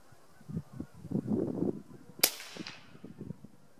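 A single sharp crack from a PCP air rifle fired through a chronograph in cold conditions, standing out briefly against faint background noise and muffled sounds.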